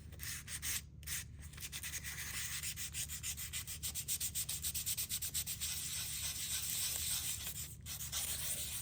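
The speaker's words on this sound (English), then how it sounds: "we're just gently rubbing till that print comes up" Paper rubbed by hand over a flat stamp to raise its print, a soft, continuous scratchy rubbing close up, repeating in steady back-and-forth strokes with a few brief pauses.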